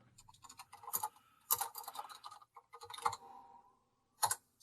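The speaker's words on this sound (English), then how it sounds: "Still typing my turkey stuff." Bursts of keyboard typing on a computer, quick clusters of clicks separated by short pauses, fairly close and alone with no one talking.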